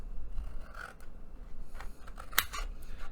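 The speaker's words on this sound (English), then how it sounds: "I'm not cutting them very good. I think I got some really dull scissors." Dull scissors snipping through backpack fabric, a few short, quiet scrapes and one sharper close cut, with no talking.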